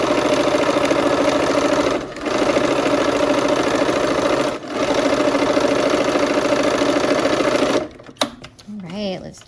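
Close, loud sewing machine running steadily while stitching a Christmas tree quilt block, a fast whirring motor chatter with two brief pauses, then stopping as a voice speaks near the end.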